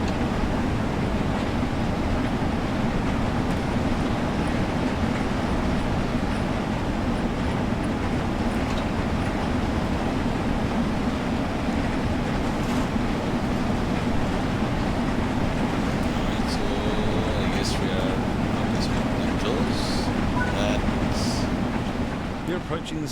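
An LMS Class 6P steam locomotive running on the Peak Forest Line in Train Sim World 4 produces a steady, loud, low rumble and rolling rail noise throughout, with faint clicks and squeaks near the end, while a voice talks over it.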